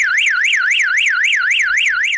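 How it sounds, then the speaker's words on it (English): A StarLine S Series vehicle alarm, triggered by a hard thud, blares loudly and continuously, its pitch sweeping up and down in a fast repeating wail. "A harder thud, the alarm system is going to go off."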